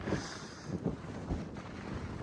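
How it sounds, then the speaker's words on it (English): Strong, cold wind on Denali roars and buffets against the microphone in uneven gusts, a continuous loud rush with no voices. "Wind's just gusting across, quite cold."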